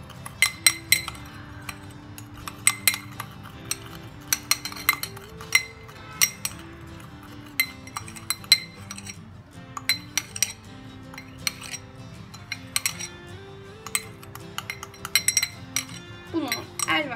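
A spoon stirring a foaming mixture of baking soda, lemon, vinegar and soap in a dish, rapid repeated metallic clinks and scrapes against the bowl throughout, with someone talking softly underneath.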